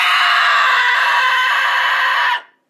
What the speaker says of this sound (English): if you want to learn to make more of those kind of high-pitched rock screams